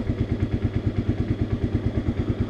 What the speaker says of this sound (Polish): naprawdę polecam jazdę motocyklem 125